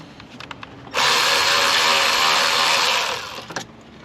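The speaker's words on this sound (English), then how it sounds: "so let me take my Milwaukee wrench here." A Milwaukee power wrench whirs loudly for about two seconds while working bolts on a 2001 Camry engine during an alternator replacement, with faint clicks and handling noises before and after.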